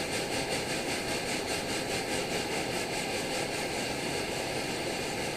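An MSR Omnifuel stove burner preheating with a flame plate roars loudly and steadily at close range, a broad rushing blast with a faint pulsing chug running through it; no talking.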